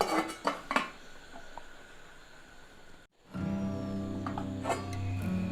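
A lid is set onto a pot of water with cardamom in a rice cooker, giving a few light metallic clinks and clatters up close before a steady low hum of heating takes over.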